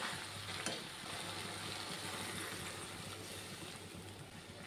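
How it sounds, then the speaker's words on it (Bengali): Taro leaves and stems sautéed with vegetables in a pan, stirred as they soften: a steady, close sizzling hiss that holds evenly throughout with no voices. "শাকটি একটু নরম হয়ে আসছে, এখন একটু নেড়ে ছেড়ে দেব।"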